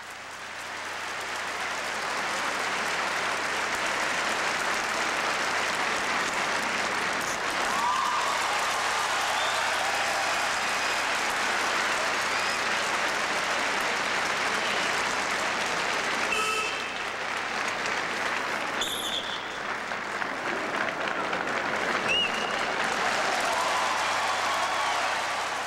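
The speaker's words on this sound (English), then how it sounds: "cheered on by the crowd." A large arena crowd applauds and cheers figure skaters performing their program, a dense, steady roar of clapping that holds loud throughout, with a few brief sharper accents.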